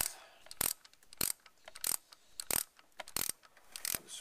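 On a Porsche 944, a ratchet works a pulley lock nut during a timing belt change, making a rhythmic series of close, crisp clicking bursts about every two-thirds of a second, each a quick run of pawl ticks, with no talking.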